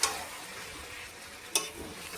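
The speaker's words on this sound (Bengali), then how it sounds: "এখন মাংস, এই যে এখন আমি চিকেনটা কষাচ্ছি।" Chicken sizzles steadily in a hot pan while being sautéed, with close scraping stirs at the start and again midway.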